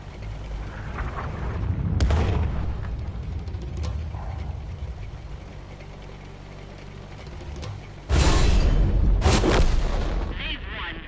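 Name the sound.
artillery fire in World of Tanks video game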